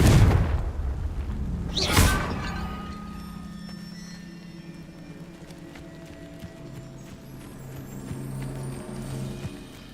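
A Confringo blast spell explodes in Hogwarts Legacy with a sudden deep boom at the start and a second sharp burst a moment later, followed by a fading rumble and low ambient game hum.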